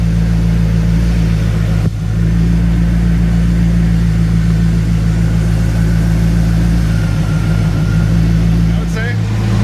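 A 1994 Chevrolet Corvette engine runs steadily just after a fuel pump and fuel filter replacement, a loud continuous low drone with a brief dip near the start and slight variation toward the end.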